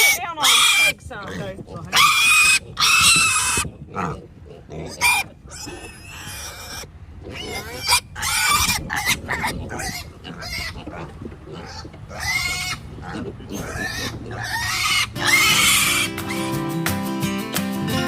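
Pigs on a pig farm squeal and grunt in sharp, repeated bursts close by, mixed with people talking and handling the animals, with a busier clatter of noise near the end.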